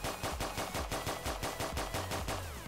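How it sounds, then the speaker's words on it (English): Rapid gunfire in a Roblox prison video game, shots aimed at inmates, heard as a steady run of quick, evenly spaced automatic shots at moderate level with no voices. "All we need to do is just shoot them."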